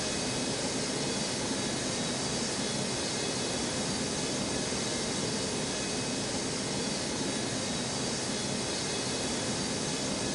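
A jet airliner roars steadily on takeoff at Newark airport, a loud continuous broadband rush of engine noise that holds without letup from start to finish, with no voices over it.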